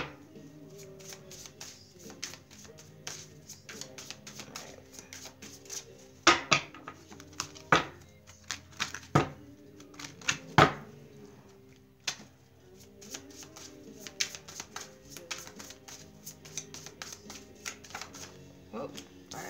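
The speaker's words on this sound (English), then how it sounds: "It's enough shuffling." A deck of tarot cards is shuffled by hand in repeated riffles and taps, crisp papery snaps clustering into bursts, close and clear, with a voice speaking quietly between them.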